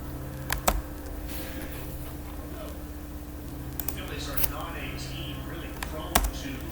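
A few sharp, isolated clicks from computer keyboard keys being pressed, spaced seconds apart over a steady low electrical hum, close and fairly quiet.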